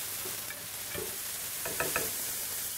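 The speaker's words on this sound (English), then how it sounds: "just keep going with this until you're happy with the mushrooms cooked and the bacon" Mushrooms and bacon frying together in a pan, a steady moderate sizzle broken by a few clinking stirs of a utensil, without any talking.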